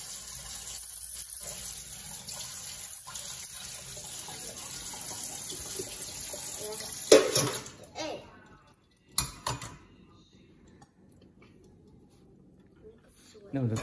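Running tap water as a young child washes dishes at a sink, a faint steady stream with a few louder clatters and splashes partway through before the flow stops, quiet overall.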